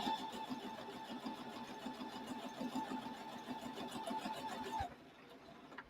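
A sewing machine runs steadily through quilt block pieces with a fast, even needle rhythm and motor hum, fairly quiet and close, stopping near the end.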